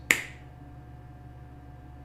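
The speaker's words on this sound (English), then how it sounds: "just go ahead and snap your fingers as this indicates release" Single crisp finger snap, close and clear, followed by a quiet room hum.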